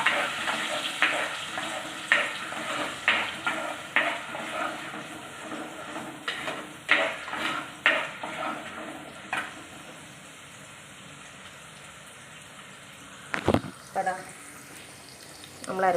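Ground paste for a fish curry sautéed in a pan, with a sizzling hiss and repeated stirring scrapes for about ten seconds, then quieter, with a brief knock near the end.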